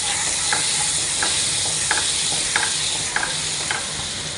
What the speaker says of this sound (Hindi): ये हम लोग पहले इसमें बटर मेल्ट कर रहे हैं